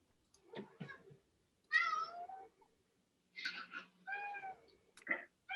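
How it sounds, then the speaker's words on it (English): A cat meows several times during a quiet remote meeting, distinct separate calls spaced a second or so apart, moderately close and clear against near silence. "I hear a cat."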